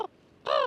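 A man imitates a raven's call with a single harsh, nasal caw, loud and close, following a brief cut-off snatch of sound at the start, outdoors at a coastal fortress.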